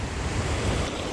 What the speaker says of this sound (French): Les vagues sont grosses.